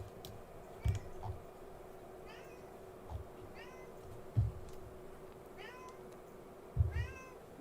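A cat meows several times, short rising cries spread across the clip over a low steady room hum and occasional soft keyboard clicks, with no one talking.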